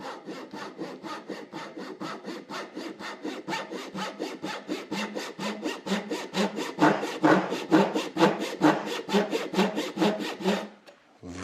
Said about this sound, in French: prendre une petite scie japonaise pour attaquer